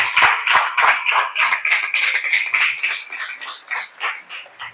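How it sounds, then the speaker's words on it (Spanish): Clapping from a church congregation, a few people applauding in an irregular, rhythmic patter that stays close and fairly loud, then thins slightly toward the end. "dale el aplauso a Dios"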